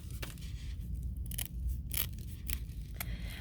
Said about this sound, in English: I know these small scissors are annoying